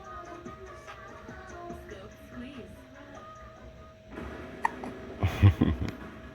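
A baby boy hiccups, a few small sharp catches near the end, close and clear after a quieter stretch of room noise, with no talk over them.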